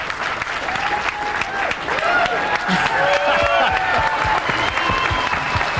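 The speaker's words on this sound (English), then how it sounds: "And as the crowd applauds EFREN, and of course Jeff," A crowd at the 1995 World 8 Ball Championship applauds the billiards champion, with sustained dense clapping filling the hall while a commentator speaks over it.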